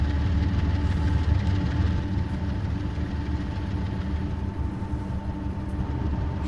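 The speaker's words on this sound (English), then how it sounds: "it revs up when it's getting up to speed, and then it goes into a really quiet idling" A GEVO diesel locomotive engine in a train simulator game runs with a steady, loud mechanical drone and low rumble, holding even throughout with no speech.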